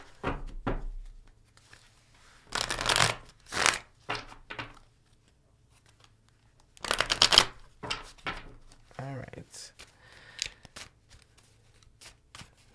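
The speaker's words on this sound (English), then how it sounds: "take a moment while I do a nice shuffle here" A deck of zodiac cards being shuffled by hand during a tarot-style reading, giving several bursts of riffling and flicking card noise spread across the clip, separated by quiet gaps.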